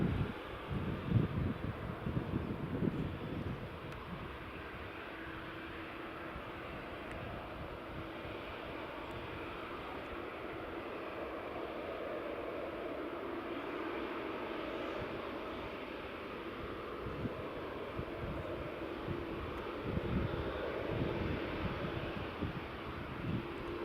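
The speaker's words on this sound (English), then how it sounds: "next up, WestJet taxiing, and then we'll have the Delta 767 departing in just a moment" Jet engines roar steadily and at a distance at Edinburgh Airport as a WestJet jet taxis and a Delta Boeing 767 departs, with wind buffeting the microphone and lower rumbles rising toward the end.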